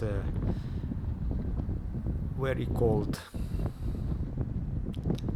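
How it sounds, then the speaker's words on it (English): Steady wind buffeting the microphone at the top of a bell tower in Kyiv, with a person speaking over the gusty rumble. "Although it was very windy up there"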